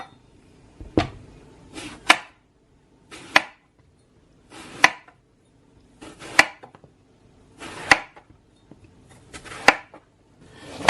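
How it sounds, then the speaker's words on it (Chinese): Knife chopping eggplant into long strips on a board, sharp close cuts coming in uneven bursts of two or three with short pauses between, alone without talk. "切成长条状"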